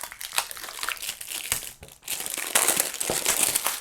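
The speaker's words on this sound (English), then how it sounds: "Take the wrapper off." Plastic wrapper being pulled and crinkled off a boxed Ulanzi WL1 wide-angle lens, a steady run of close, loud crackling and rustling with a brief pause midway, no talking.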